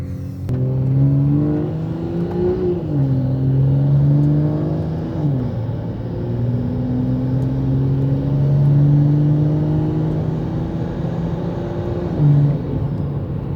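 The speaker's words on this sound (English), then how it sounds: "All right, whoa, the turbo noise is crazy." A catless, big-turbo BMW M340i engine drones loudly from inside the cabin in sport mode, pitch climbing through several gear shifts with a whirring turbo tone riding above the rumble.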